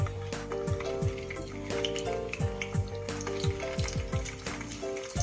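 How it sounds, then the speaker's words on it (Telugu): Whole bitter gourds fry in hot oil with a steady, dense sizzle and crackle, punctuated by repeated knocks of a utensil against the pan, close and continuous with no talk. "ఇలా కాయలు వేపుకుంటే బాగుంటుందండి."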